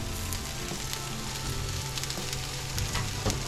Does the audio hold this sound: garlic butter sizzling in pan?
yes